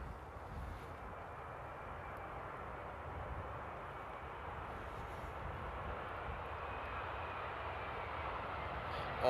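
A Boeing Dreamliner rolls out on landing at Amsterdam airport, its engines in reverse thrust giving a steady, fairly distant broadband roar that holds evenly throughout with no voices.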